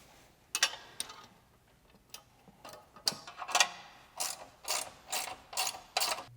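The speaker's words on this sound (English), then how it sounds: "Using a ratcheting wrench, I'll install these carriage bolts." A ratcheting wrench tightening carriage bolts on a mower mulch kit, with a string of sharp metallic ratchet clicks that grow steadier and more regular toward the end, close and alone.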